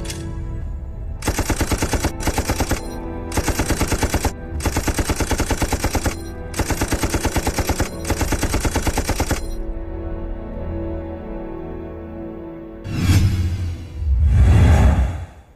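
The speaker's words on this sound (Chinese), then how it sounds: "枪手，给我射击，射击！" Machine gun fire in an anti-Japanese war kung fu film, long rapid bursts of loud close automatic shots separated by brief gaps, then a quieter pause and two heavy whooshing blasts at the end.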